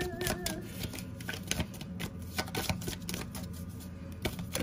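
Cards pulled and shuffled from a deck during a pick-a-card tarot reading, giving a run of soft, rapid papery flicks and taps close to the mic, steady throughout with no talking.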